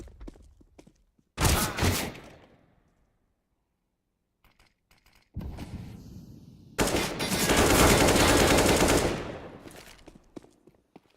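Rifle fire in a competitive Counter-Strike match, with a short burst, a quiet gap, then a longer sustained spray of rapid shots with shell casings clinking, close and loud.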